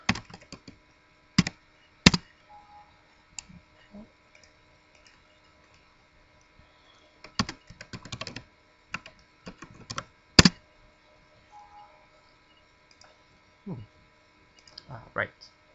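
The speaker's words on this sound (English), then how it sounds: "I'll type it in now." Typing a username and password on a computer keyboard, with sparse, irregular bursts of sharp key clicks separated by quiet pauses, close and crisp, alone.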